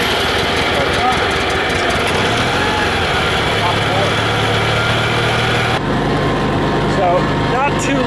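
An M274 Mechanical Mule military utility vehicle's small engine idles steadily just after starting with a little choke, a constant close mechanical drone whose tone shifts partway through, with some faint background noise.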